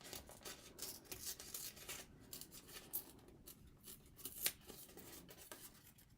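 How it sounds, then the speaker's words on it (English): A strip of purple paper is torn slowly from a Tri-Blend swatch chart, giving a faint, close, scratchy rasp with a few small crackling bursts and no talking. "we are going to rip this purple one first"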